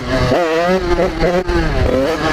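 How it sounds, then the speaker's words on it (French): A 50cc motorcycle in second gear revs hard with a clutch kick to lift into a wheelie, the engine note rising and wavering in repeated surges, close and loud over wind noise. "je mets ma moto tu vois un peu dans les tours, et coup d'embrayage"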